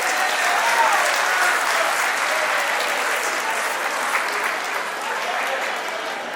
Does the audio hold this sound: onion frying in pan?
no